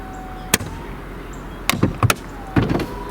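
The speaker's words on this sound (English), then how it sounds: "Up comes the top cover. There's those bangs I was talking about." Mercedes-Benz SL 500 roadster soft top retracting, a faint electric motor whir punctuated by several sharp mechanical bangs and clunks, one single early and then clustered knocks near the end.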